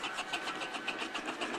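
A steam engine freewheels at a steam fair, giving a steady rapid rhythmic chuffing and clatter at moderate level, close by and continuous, with no voices over it.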